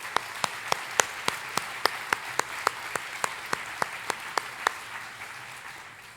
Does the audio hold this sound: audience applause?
yes